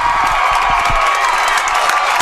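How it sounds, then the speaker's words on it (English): A football crowd at an Abington Green Wave game cheers and shouts back loudly at the saluting team, a dense, steady roar of voices with scattered whoops and claps throughout. "The Abington Green Wave are saluting the crowd, and the crowd is giving it right back at you"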